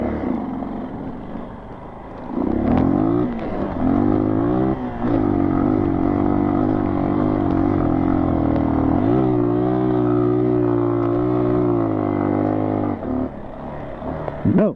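A low-powered dirt bike on bald Universal tires attempts a hill climb, its engine rising to a loud, sustained strain with shifting pitch before bogging down and fading near the end.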